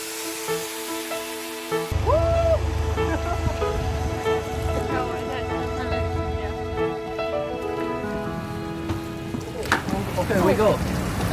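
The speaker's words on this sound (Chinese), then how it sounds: "没想到雨越下越大，只能找个地方躲起来" Heavy rain pours on an Indonesian island, a dense steady hiss that starts abruptly and continues throughout, close by, with some faint tonal sounds and a brief voice-like sound mixed in.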